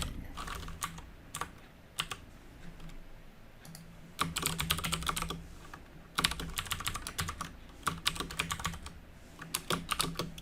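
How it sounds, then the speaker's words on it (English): Rapid clicking keystrokes on a computer keyboard come close and clear in irregular bursts, with short pauses between flurries and no talking. "So there was a lot of me typing."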